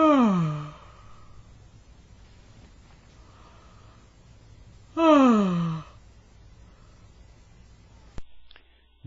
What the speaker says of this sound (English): The first example is of a yawn that was stifled.